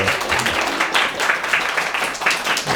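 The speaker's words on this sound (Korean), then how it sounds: "박수로" Church congregation applause during a Sunday service, a short run of many hands clapping, fairly close and uneven in rhythm, with no speech.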